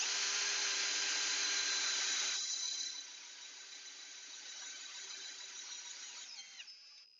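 Power drill on a DW2/DW3 drilling rig running at full speed, a steady high-pitched whine with a strong tone, then easing down to a lower, quieter hum as the speed backs off near the end.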